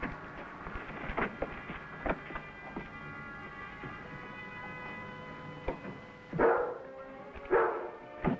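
A dog in an old western TV episode barks in a series of loud bursts spread across the stretch, close by, with a tense musical score running underneath.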